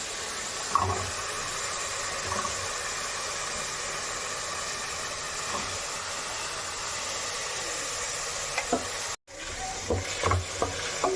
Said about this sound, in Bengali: এবার আমি এর মধ্যে দিয়ে দেব এখানে কেটে রাখা বিনস আর গাজর।